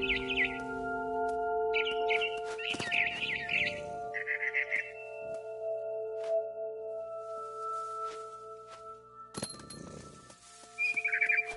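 Barn swallow chirping in a game scene, bright short twittering bursts in scattered clusters over a steady faint ambient hum, with a couple of soft thuds between calls.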